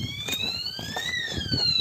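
A police siren wails in a slow rising and falling sweep, heard from some distance outdoors over steady wind noise and low rumble.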